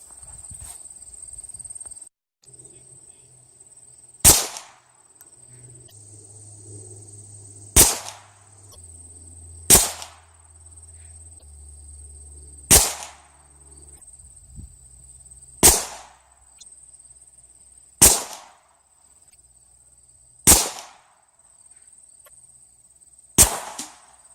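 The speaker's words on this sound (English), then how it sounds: "I'll shoot at these some more." Gunshots fired at lead plates outdoors, eight loud sharp cracks spaced a few seconds apart, each trailing off into echo, with a steady high whine running beneath.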